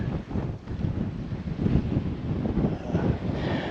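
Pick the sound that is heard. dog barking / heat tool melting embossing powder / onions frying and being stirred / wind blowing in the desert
wind blowing in the desert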